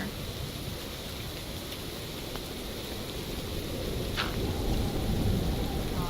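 Steady video-game rainfall hisses throughout a thunderstorm, with a low rumble of thunder swelling toward the end; no voices.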